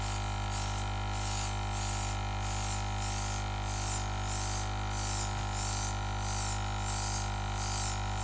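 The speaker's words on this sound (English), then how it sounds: "the airbrush gives you a much more uniform, even dispersion of that color" An airbrush sprays dust color in even strokes onto a cookie, giving a steady hiss with a faint rhythmic pulsing as it sweeps back and forth, running continuously and close up over a low, constant hum.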